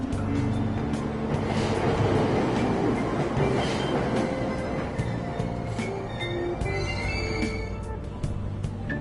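A train in the Persona 5 Royal video game sits at a station platform, giving a steady rumbling hum with clicks and brief tonal chimes, fairly loud and continuous through the stretch.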